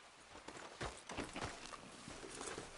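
Horse hooves clip-clop at a steady walking rhythm in Red Dead Redemption 2, fairly close and moderately loud over faint outdoor ambience.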